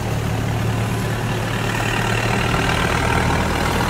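The 6.3 m speedboat's four-stroke engine runs continuously, a loud, even low drone with no pauses and no voices.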